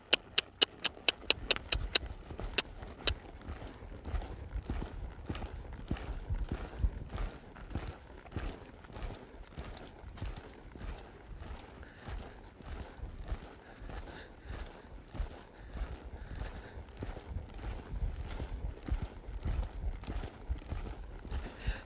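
A ridden horse moving into a lope makes steady hoof clip-clops. A few sharp, separate hits come first, then a rolling rhythmic beat of hooves on the ground that stays close and moderately loud throughout, with faint low rumble underneath.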